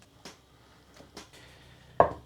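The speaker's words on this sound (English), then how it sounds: "I'm now chopping the aubergine in rough pieces" A few separate knife chops through aubergine on a cutting board, irregularly spaced, close up, with one sharper, louder cut at the end.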